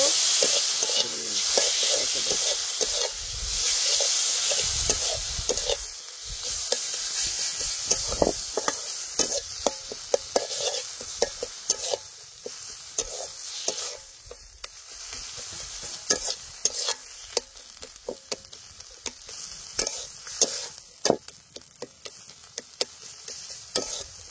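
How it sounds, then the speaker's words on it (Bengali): A tomato and eggplant mash is stirred into a pan of fried prawns, with dense sizzling and frequent scraping, clacking spoon strokes against the pan that continue for a long stretch with no voices. "এখন দিয়ে দিব টমেটো আর বেগুনের ভর্তা, খুব ভালোভাবে মিশিয়ে নিব।"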